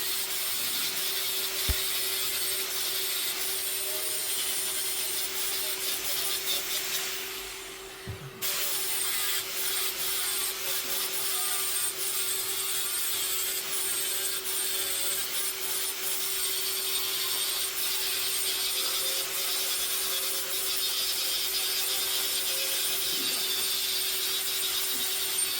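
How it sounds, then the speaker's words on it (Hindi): A steel double-edged dagger blade is filed by hand to shape its profile, giving a steady, continuous rasping scrape that runs at close range with a short pause partway through, with no voices. "कटिंग के बाद इसका प्रोफाइल को ठीक कर लेते हैं तारों से घिस के।"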